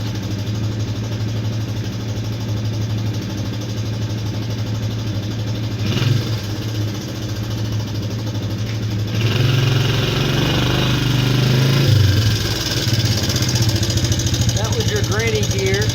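A Suzuki LT125 quadrunner ATV engine runs steadily in low gear, a loud, close, continuous buzzing drone that rises slightly in intensity partway through, with a brief faint voice near the end.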